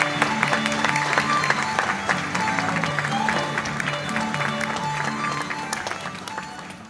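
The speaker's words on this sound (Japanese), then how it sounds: "さあ皆さん大きな拍手をお願いいたします" Applause from a Japanese comedy theatre audience as manzai comedians come on stage, steady clapping that slowly fades, with music underneath.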